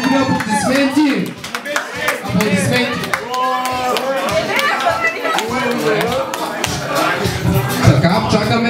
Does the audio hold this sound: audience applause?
yes